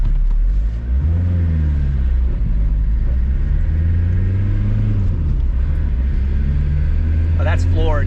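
An MK2 Volkswagen Jetta diesel accelerates at full throttle, its low engine drone rising and climbing steadily from inside the car while occupants talk over it.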